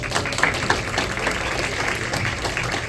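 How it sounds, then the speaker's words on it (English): Audience at a Latino conference in Washington, DC claps steadily for a woman who has just spoken, a dense, even wash of hands that holds at the same level from start to end. "give her a big hand of applause"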